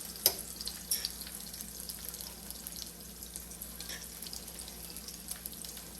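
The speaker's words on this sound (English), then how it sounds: "And then just let it saute." Ingredients for creamy Tuscan chicken sautéing in a pan, a faint steady sizzle with a couple of small clinks near the start, close and quiet with no talk.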